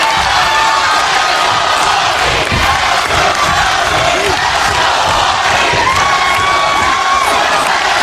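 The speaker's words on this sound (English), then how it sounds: "Impact Zone crowd definitely into this Bound for Glory Series match live tonight here from Orlando, Florida" Wrestling arena crowd at a live Impact event in Orlando, Florida, roaring, cheering and shouting chants continuously for a Jeff Hardy versus James Storm match, loud and close throughout.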